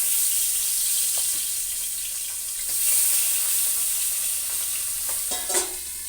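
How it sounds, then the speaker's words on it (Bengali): Pabda fish fry crisp in oil in a pan, giving a steady close sizzle with a few soft clinks and scrapes throughout and no talking. "মাছগুলো সুন্দর করে কড়া করে ভেজে নিচ্ছি দেখো।"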